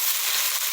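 Garlic sizzles in a hot pan with already cooked onions for fried rice with rutabaga, a steady close hiss of frying with no talk over it.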